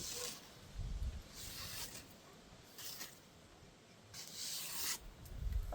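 A freshly sharpened, very thin kitchen knife slices food into strips, producing several soft, close rasping strokes at uneven intervals with no talk over them.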